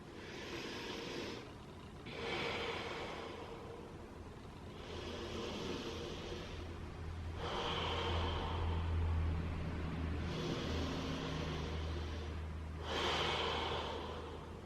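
Slow, deep breaths during a mindfulness exercise come and go in long, even cycles, each inhale and exhale a soft airy rush, close and calm, with a faint low rumble beneath.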